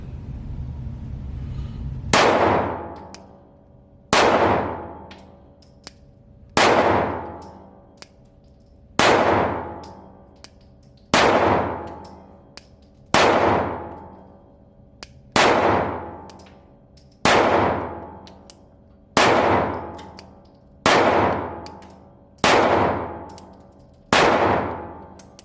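A Rost Martin RC1M pistol fires a magazine one round at a time: about eleven sharp, loud shots spaced roughly two seconds apart, each followed by a ringing decay outdoors.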